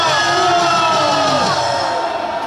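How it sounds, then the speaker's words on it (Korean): A large crowd at an outdoor political rally in Gwanghwamun, Seoul, roars with sustained cheering and shouting, loud and dense, with overlapping voices yelling; individual clapping is hard to pick out under the din. "김용현 장관에게 큰 박수로 격려해 주십시오"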